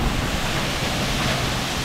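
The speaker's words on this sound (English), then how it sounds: "Really nice waterfall though." Steady broadband roar of a waterfall in Indonesia, constant and loud rushing water filling the whole clip with no clear talk.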